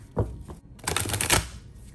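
A tarot deck with a textured back being shuffled by hand: quick, close riffling clicks in a short burst with a couple of taps before it, no voices.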